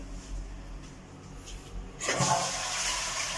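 A sit-down toilet cistern being flushed to empty it, a quiet room with faint handling noise giving way to a sudden loud rushing gush of water that continues steadily, close by, no talk.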